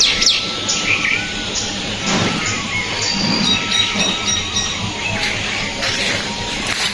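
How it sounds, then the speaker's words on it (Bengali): Birds chirping and calling at dawn outdoors in the dark around 5 a.m., a steady chorus of scattered tweets and thin whistles layered over low background noise, with no talking. "দেখুন ভোরবেলা প্রকৃতির কি সুন্দর দৃশ্য এবং কি মনোরম পাখিদের কোলাহল"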